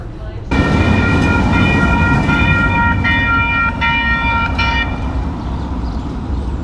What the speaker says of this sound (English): the train itself makes the crossing bell sound